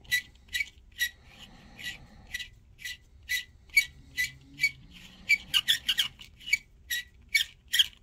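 A chamfering tool scrapes the mouth of a .338 Win Mag rifle brass case in a quick series of about twenty sharp, squeaky rasping strokes, close and rhythmic, with brief pauses between groups.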